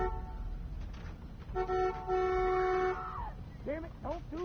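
A car horn honks in sustained blasts over a busy soundtrack from The Walking Dead Season 2 video game with background chatter, followed by a few short rising electronic chirps.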